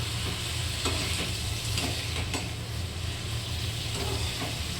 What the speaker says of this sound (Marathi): आता याला आपण मस्त असं मिक्स करून घेतलेलं, हलवण करून घेतलेलं आहे मस्त फ्लावर.